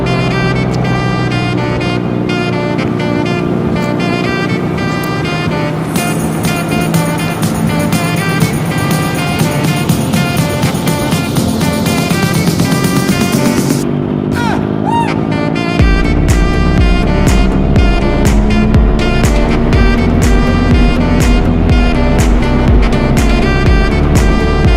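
Motorcycles riding along a coastal road among dunes, steady engine roar with rising and falling revs as bikes pass close by, loud and continuous, with a sharper, louder engine note taking over midway.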